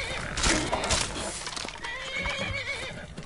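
A horse in the video game Skyrim whinnies loudly near the start, followed by hoofbeats clopping and softer snorts, with no talking over it.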